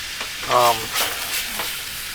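Food browning in a frying pan gives a steady close sizzle and hiss, with a brief voiced sound near the start.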